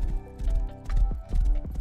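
Horse hooves clip-clopping in the survival game Rust, a quick run of close, loud hoof strikes in uneven bursts with a brief pause in the middle.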